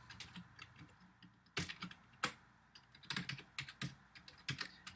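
Computer keyboard typing in quick irregular bursts of clicky keystrokes, close and clear, with short pauses between runs and no talking.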